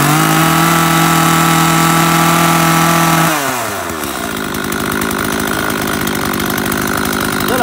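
A used Echo chainsaw engine test-runs close by, a loud steady buzzing drone that shifts pitch partway through as the revs change, with no talking over it.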